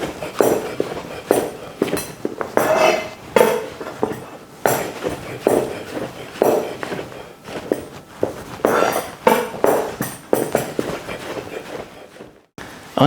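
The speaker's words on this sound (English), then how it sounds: "Just chopping some stuff." Onions chopped with a knife on a board in a home kitchen while making prawn korma, giving a string of close, uneven blade knocks in quick bursts with short pauses between them.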